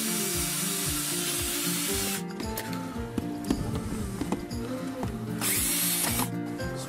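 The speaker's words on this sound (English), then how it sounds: "I will drill my drain holes here in the bottom before I put everything in there." A power drill bores drain holes in the bottom of an outdoor electrical box, whirring in rising and falling bursts with grinding contact noise, loud and close.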